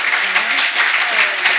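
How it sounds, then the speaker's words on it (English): Audience applause at an Alzheimer's disease research event, a dense, steady wash of clapping from a crowd that holds at an even level throughout. "we should give Harriet one more round of applause"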